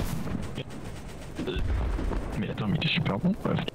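Sniper gunfire from the BattleBit Remastered shooter, with several sharp reports and busy battle noise scattered through the clip while people talk over it.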